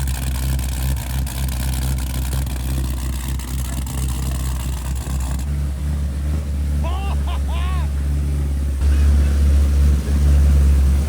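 A Hellephant V8-swapped Toyota Supra pulling away in first gear, a deep rumbling engine drone under excited voices, the note shifting and rising toward the end as the car moves off nearby.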